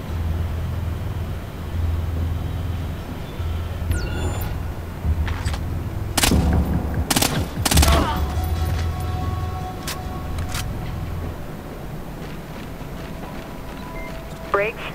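Gunfire in the stealth shooter game Splinter Cell Blacklist, with several sharp bursts of game shots mixed with a low engine drone and ambient effects, while people talk over it throughout.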